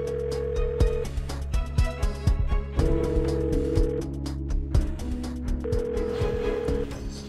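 An unanswered phone call rings out, its ringback tone sounding in evenly spaced bursts of about a second each over steady background music in an Indonesian TV drama scene.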